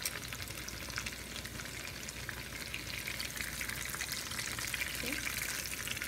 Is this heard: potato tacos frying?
yes